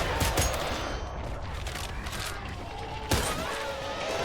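Rapid gunfire in the video game Killing Floor 3, a dense continuous burst of shots with mechanical clatter throughout, plus a sharper loud report near the end, fairly close and steady.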